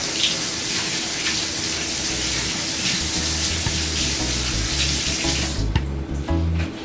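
Fresh thyme and rosemary being washed under a running kitchen tap, a steady loud gush of water splashing into a sink that cuts off near the end, with a few clinks of handling and no talking.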